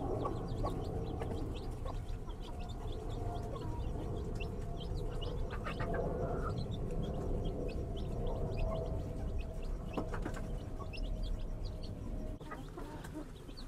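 Chickens and roosters in a cage cluck and chirp continuously at close range, with short calls repeating over a steady low barnyard hum.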